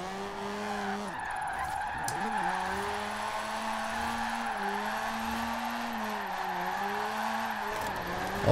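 A Mazda drifting on street tires in Forza Horizon 4, its engine holding a steady drone while the tires slide and squeal continuously, the pitch dipping and rising with each throttle change, heard alone without talk.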